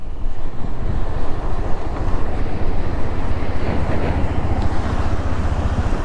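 A waterfall on a mountain motorcycle route near Chhatru rushes as a loud, continuous broadband roar close by, with wind buffeting the microphone and no voices.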